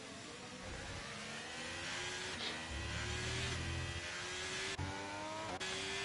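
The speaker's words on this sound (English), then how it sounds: "I see a lapped car getting out of the way maybe" Racing car engines in a racing video game at the Spain round whine and rev continuously, with gear shifts rising and dropping over a steady, fairly loud drone and no talk.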